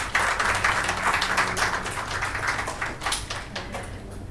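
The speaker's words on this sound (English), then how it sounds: "So, ladies and gentlemen, Jyotsna Govil, a round of applause for her." Audience applause at a mobile app launch event for a cancer-care cause, a steady wash of many hands clapping that fills the room, loud and continuous throughout.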